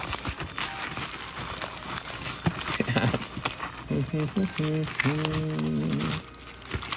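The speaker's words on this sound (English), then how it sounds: "I'll shuffle these up a little bit." Pokémon trading cards riffled and shuffled with a papery crinkling clatter, close by in a card shop, while a voice talks and music plays in the background.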